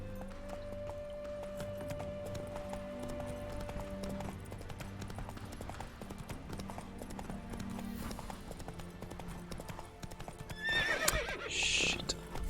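Roach, the horse in The Witcher 3, gallops with a steady rhythmic clip-clop of hooves, then lets out a loud whinny near the end, amid game sounds, with players talking.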